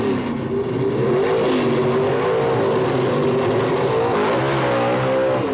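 At Boundary Bay Raceway, Dick Landy's drag racing car launches into a wheel stand. A loud, close engine roars with a steady, rising drone that holds for several seconds.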